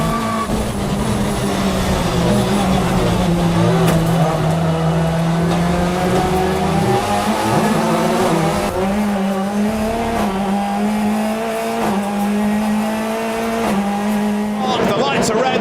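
British Touring Car Championship race cars roar around the Knockhill circuit in a continuous, loud engine drone with shifting pitch, under steady commentary.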